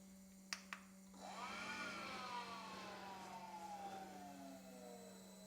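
A hybrid diesel heater, built from a Webasto unit and a Chinese heater welded together, starts up with a couple of sharp clicks, then a rising whine that settles into a steady hum, faint and close.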